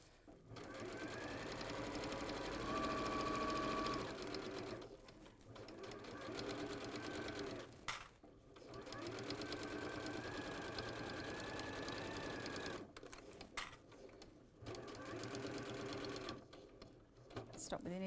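Sewing machine stitching in bursts with brief pauses where it stops and pivots at a corner, a close steady mechanical whir that halts and restarts, with people talking over parts of it.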